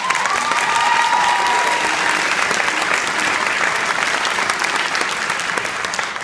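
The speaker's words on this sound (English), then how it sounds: "I was going to ask you guys to applaud anyways" A graduation audience applauds in a hall, sustained and fairly loud, with many hands clapping in a thick continuous wash that tapers off slightly toward the end.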